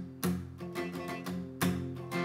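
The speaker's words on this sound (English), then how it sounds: "we're going to have to implement something called a palm mute technique" Palm-muted acoustic guitar chords strummed in a beginner lesson for a song, giving short, damped, thumping strokes in a steady rhythm, with two stronger accented downstrokes standing out, played alone and close.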